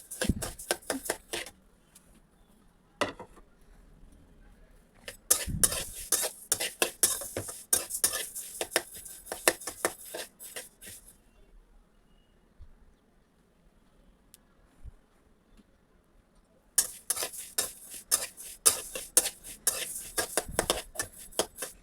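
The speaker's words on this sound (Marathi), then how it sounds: "मंद वर तीळ छान भाजून घेऊया" Sesame seeds stirred while roasting in a pan over low heat, a dry rattling scrape in several bursts separated by quiet gaps, close but soft.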